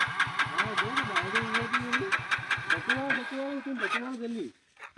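A motorbike engine cranks and sputters in a quick, steady rhythm of pulses, loud and close, trying to catch before cutting out near the end, with a voice talking over it.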